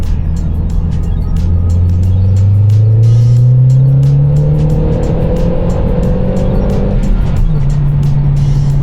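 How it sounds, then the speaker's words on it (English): A MazdaSpeed 3 fitted with a new intake pulls hard in third gear from about 2,500 to 6,500 rpm, engine note climbing loudly and steadily before a brief drop at the shift, close and dominant. "That intake makes some beautiful, beautiful noise."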